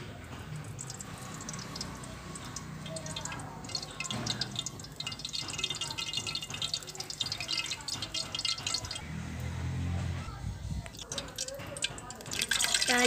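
Cooking oil poured into a kadai at the start of a chicken kadai recipe, a steady liquid trickle with dripping running through the whole stretch over a dense background.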